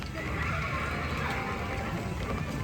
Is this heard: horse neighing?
yes